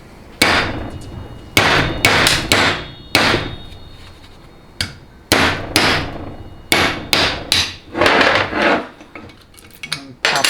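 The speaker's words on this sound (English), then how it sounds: "So I just get like a chisel like so, kind of wedge it in there and behind the seal." A chisel is hammered in behind the seal of a 4L80E transmission during a teardown, giving a dozen or so sharp metallic strikes in irregular bursts, loud and close, with short pauses between groups.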